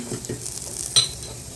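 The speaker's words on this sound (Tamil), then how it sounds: "போட்டு சும்மா லைட்டாக ஒரு வதக்கு வதக்கினா போதும் ரொம்ப வதக்க வேணாம் லைட்டாக வதக்குங்க" Ingredients for rasam are lightly sautéed in a pan, giving a soft close sizzle with a spoon scraping and stirring, plus one sharp metallic clink against the pan partway through, and no voices.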